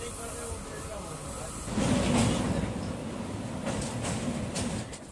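Panskura local train rolling along its tracks, a steady broad rumble with hiss that swells briefly midway, continuous and fairly close throughout.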